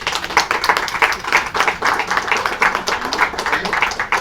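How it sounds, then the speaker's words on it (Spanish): Steady, dense clapping from an audience at a local history group's talk about the taking of Ciudad Juárez, rapid overlapping claps at moderate loudness with no voices on top. "un aplauso para ustedes"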